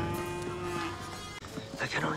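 A cow lets out a drawn-out low moo in a scene from the 1984 comedy film Top Secret!, heard amid other film sound and some speech.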